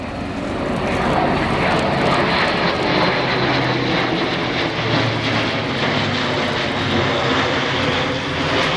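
Airbus A400M Atlas four-engine turboprop military transport making a flypast at RIAT 2012, a loud, steady propeller and engine roar sustained throughout without any talk.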